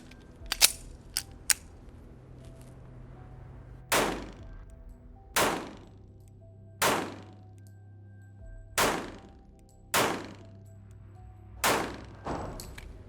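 Pistol shots from a 1911 or Glock, fired one at a time through the rest of a magazine, with about seven sharp reports spaced roughly a second apart, after a few faint clicks.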